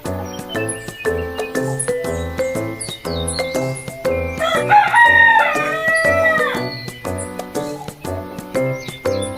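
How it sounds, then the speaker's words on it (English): Rooster crow played by an animal flashcard toy, a loud electronic cock-a-doodle-doo rising in the middle of a bright, bouncy tinkling jingle that runs throughout. "Here comes a rooster."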